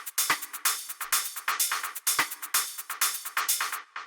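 Processed techno hi-hats, fattened and saturated, tick in a steady, fast, crisp pattern with bright sizzling tops and short decays, loud and upfront with no other instruments or voices.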